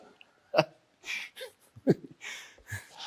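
Heavy, straining breaths and grunting exhalations from a man exercising, coming in short irregular bursts close to the mic with quiet gaps between them.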